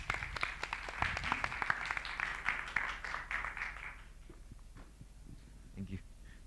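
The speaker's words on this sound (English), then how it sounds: "please give him a big round of applause." An audience at a talk on game development claps for the speaker, a fairly faint, scattered patter of hands for about four seconds that fades into quiet room tone with a brief sound near the end.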